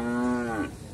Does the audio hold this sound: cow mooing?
yes